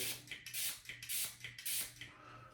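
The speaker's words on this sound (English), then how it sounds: "I normally spray around 4 times" Several quick hissing spritzes from the spray bottle of a Supply SE razor, about four bursts in a steady rhythm, close and fairly quiet.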